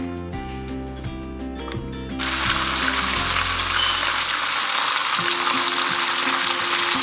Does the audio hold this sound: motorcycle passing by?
no